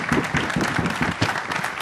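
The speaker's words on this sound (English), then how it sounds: "I would like to stand and give them a round of applause" Applause from a conference audience at a fireside chat, a steady wash of many hands clapping for about two seconds, fairly loud and continuous with no voices over it.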